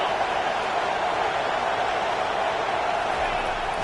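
A stadium crowd in an NCAA football video game roars as a steady, dense wash of cheering noise, loud and continuous with no distinct breaks.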